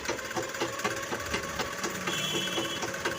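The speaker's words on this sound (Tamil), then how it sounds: "இப்போ ஒரு ஊசியடை தையல் ஒன்று போடுங்க பயப்படாமல் நல்லா நேராக வரணும்" A sewing machine stitching a blouse runs steadily and close, its rapid mechanical chatter repeating in an even rhythm without pause.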